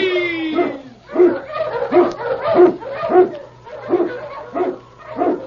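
Husky sled dogs bark and yip in a rapid series of loud, close bursts, roughly one every half second, over a low steady hum.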